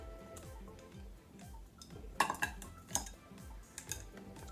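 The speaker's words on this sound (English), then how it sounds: "I just want to mix it around real good to make sure it's well incorporated" Deviled egg filling being mixed with mayonnaise in a bowl, with quiet, steady rhythmic scraping strokes and a few sharp clinks of a utensil against the bowl.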